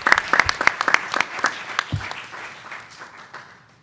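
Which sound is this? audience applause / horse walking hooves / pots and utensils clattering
audience applause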